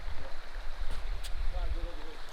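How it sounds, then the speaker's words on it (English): Clear, fast-moving stream water rushing steadily close by on a hiking trail, a continuous broadband wash with low rumble, while hikers speak briefly over it. "Nice clear, fast moving water."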